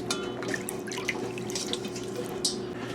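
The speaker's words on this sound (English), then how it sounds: "That was water with lemon juice." Water mixed with lemon juice is poured over sliced apples for a 1960s apple crisp, a steady close trickle with light drips and splashes in a kitchen.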